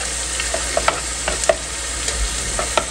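Yogurt being whisked in a bowl for karhi pakora, a spoon or whisk clicking against the sides in irregular sharp taps over a low steady background hiss, no voices.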